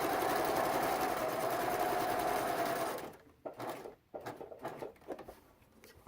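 Home sewing machine stitching fabric along a 3/8 inch stitch line, a steady continuous whir for about three seconds that stops abruptly, followed by quiet handling clicks and rustles.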